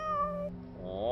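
A cat meows in a video game, a drawn-out close meow followed by a second rising meow, loud and clear with faint game background beneath.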